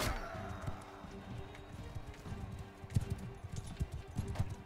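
Horse hooves gallop in Mount & Blade II Bannerlord, a quick run of thudding clip-clop beats that grows busier toward the end, with someone talking over the game.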